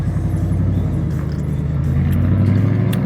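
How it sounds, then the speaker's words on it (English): Road traffic passing close by outdoors, a loud steady engine rumble and tire roar of a car going past, with no talk. "Fair amount of traffic out here today."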